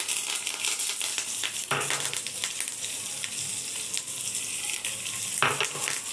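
Spices crackle and sizzle in hot oil as a tempering for mixed-lentil dhokla, a bright continuous hiss with sharp spattering pops and a couple of louder bursts as things are stirred.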